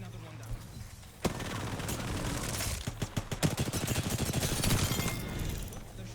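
Gunfire in a video game crackles in quick bursts and rapid volleys over a dense, busy battle mix, with louder sharp reports clustering midway through.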